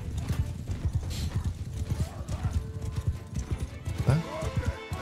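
Massed cavalry galloping across a Mount and Blade 2 Bannerlord battlefield, dense rapid hoofbeats with a brief whinny, under a voice talking throughout.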